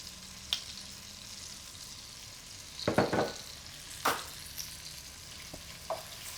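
Chopped tomato going into a hot pan with lamb and onion for a stew, a soft low sizzle broken by a few louder stirring scrapes and bursts.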